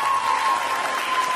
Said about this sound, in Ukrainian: похлопайте им еще раз,